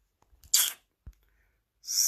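A single sharp sneeze bursts out loud and close, preceded by a faint intake of breath, followed by a short low thump and then a second noisy burst near the end.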